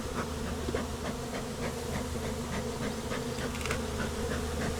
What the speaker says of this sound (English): A lot of these bees are on the side of the box fanning